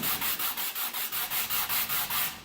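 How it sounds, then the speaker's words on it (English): A harmonica comb from a Suzuki Sirius 14 kit is hand-sanded with sandpaper, making about ten rhythmic back-and-forth rasping strokes, close and steady, with no talking. "I'm going to continue to sand a little more"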